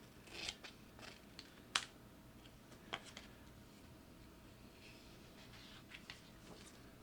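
Scissors cut paper for bookbinding, faint snips and small crisp clicks scattered over a quiet room hiss, one sharper cut standing out.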